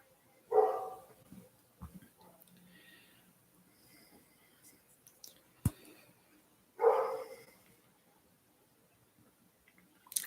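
A dog barks twice, each a single short bark spaced several seconds apart, heard from a distance against a quiet background.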